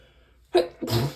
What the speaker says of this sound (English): Ooh, and I'm sneezing.